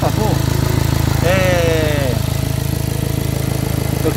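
Iveco 35S14 diesel van engine with an EGR problem being revved, a loud steady mechanical drone held close throughout with a brief rising tonal sweep partway through.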